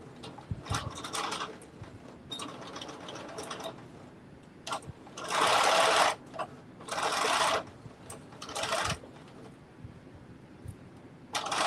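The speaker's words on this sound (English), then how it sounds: "Now I'm just going to sew this back so it lays nice and flat" A sewing machine stitches a fabric bucket hat in short bursts, with three loud, steady runs of motor whir at close range between quieter handling and brief starts.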